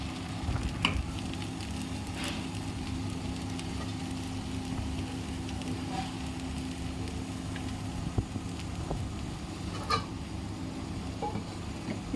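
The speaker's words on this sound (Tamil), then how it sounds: "இப்போது இதை தோசையை ஊற்றிக்கலாம்." Banana stem dosa batter sizzles on a hot tawa, a soft, steady, even hiss that runs on continuously at a low level with a few faint clicks, no voices.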